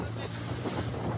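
A small boat rides the open sea in strong wind, far from the coast. Steady roaring wind noise and the rush of water fill the whole moment without a break.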